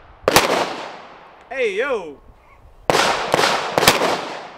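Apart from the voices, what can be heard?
Glock 43X pistol gunshots at a shooting range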